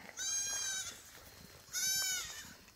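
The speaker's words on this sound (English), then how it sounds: "Come on, goat." Two loud, close bleats from a goat being herded into the woods, each drawn-out and quavering, separated by a short quiet gap with faint rustling.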